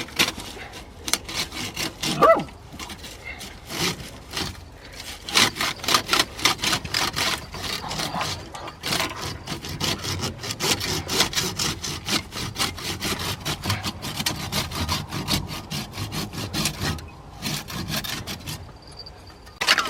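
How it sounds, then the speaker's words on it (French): A hand saw cuts through tree branches in quick repeated back-and-forth strokes, a rhythmic rasping close by with short pauses between bursts. "On sort la scie à bois, bah, ça sera beaucoup plus pratique."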